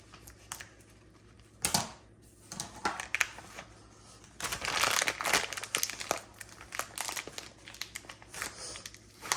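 A plastic bag crinkles and rustles steadily as sugar cookie dough is pressed and worked down inside it, with louder crackling bursts against a quiet background.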